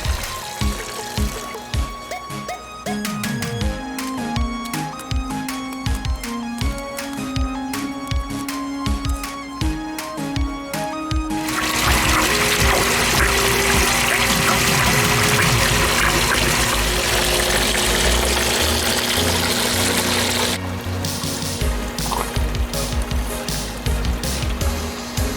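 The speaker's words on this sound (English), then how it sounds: "This is how I add water to the aquaponics system." Water is poured into a home aquaponics system that uses scrubbies and sponges as biomedia. A steady rushing, splashing pour runs continuously for several seconds at close range after an earlier stretch of tonal background sound.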